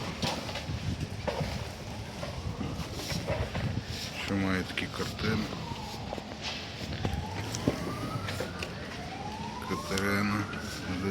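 A police siren wails in the background, rising and falling, beneath steady crowd noise and talking at a flea market.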